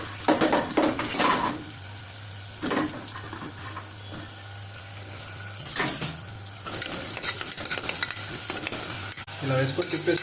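Onions sizzling and frying in hot oil in a pan for mutton curry, with repeated stirring scrapes and clinks of a spoon against the pot over a steady sizzle.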